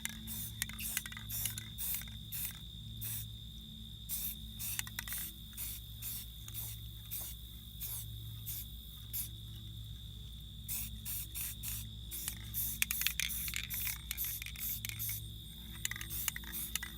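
Short repeated bursts of spray paint laying woodland camo onto an airsoft gun, light quick hisses in an irregular rhythm over a steady low hum, close and fairly quiet.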